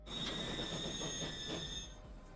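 Simulated train in the rail game Transport Fever 2 rolling along with a steady rumble and a sustained high metallic wheel squeal, loud and continuous throughout, with no talking.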